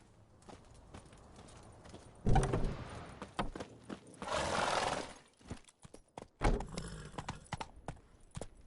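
Roach the horse's hooves clip-clop in The Witcher 3, an uneven walking rhythm close by with a few louder bursts of movement and a brief whinny-like swell.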